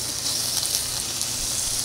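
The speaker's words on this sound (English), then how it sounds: "Oh, can you hear this sizzling sound?" Thinly sliced beef brisket sizzles in a pan over medium-high heat for a soybean paste stew, giving a steady, close, bright crackling hiss with no voices.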